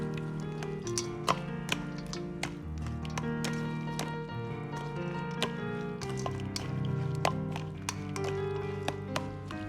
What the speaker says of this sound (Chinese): 然后用筷子翻拌均匀